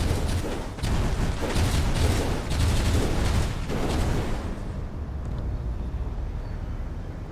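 Gunfire in the Space Engineers survival game, aimed at the player: dense bursts of shots roll on for about four seconds, then cut away to a quieter, hollow hum.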